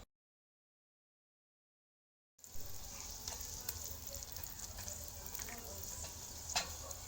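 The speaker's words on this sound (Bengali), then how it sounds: "তেল বা বাটার বা ঘি যাই দিয়ে ভাজবেন, তারপর সুন্দর ফুলকো হয়ে ফুল উঠবে" An aloo paratha fries in oil, butter or ghee, giving a steady close sizzle with small crackles and pops. It starts suddenly after more than two seconds of silence.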